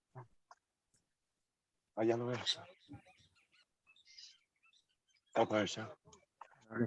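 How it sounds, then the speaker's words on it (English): A kiskadee calls at a Costa Rican lodge, short sharp bird notes rising among people talking nearby, with quiet gaps and faint clicks between the voices. "Kiskadi calling here."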